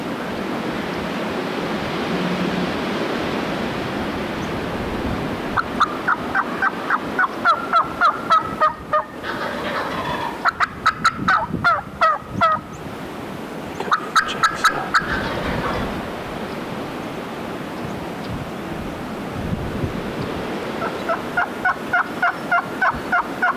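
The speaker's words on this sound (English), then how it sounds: "There's some male turkeys to the left here" Male wild turkeys gobble repeatedly in rapid rattling bursts, moderately distant, over a steady rushing background noise like wind or surf.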